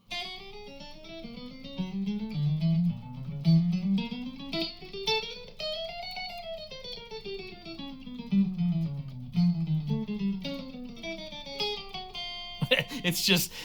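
Electric guitar notes climb and descend in repetitive chromatic runs, a mechanical finger exercise played alone, ending with a brief burst of strummed noise.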